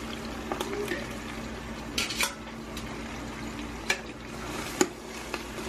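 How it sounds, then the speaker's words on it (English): Onions are added to a pot and start cooking, giving a faint steady sizzle with occasional clinks of a utensil against the pot, heard close up in a home kitchen. "we're going to go ahead and we're going to stick our onions in here"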